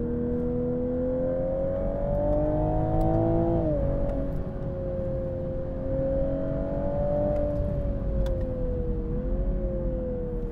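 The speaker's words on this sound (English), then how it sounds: "get this car in third gear on a canyon road, oh my God, does it rev beautifully" A 2022 Toyota Supra held in third gear on a canyon road revs hard, its loud, steady engine note climbing, dipping briefly near the middle, then pulling on again with no voices over it.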